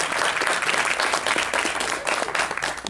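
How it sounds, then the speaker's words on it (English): A convention audience at a Spooky Empire Retro panel claps loudly for a guest, a dense, even burst of many hands that keeps going for about three seconds. "Give her a round of applause."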